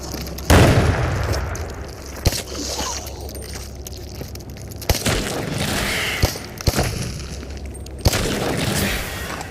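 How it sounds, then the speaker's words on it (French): A grenade blast in the VR shooter Into the Radius, a loud sharp burst followed by a rumbling boom, with several more sharp pops and bangs scattered through the rest of the scene. "Oh, grenade."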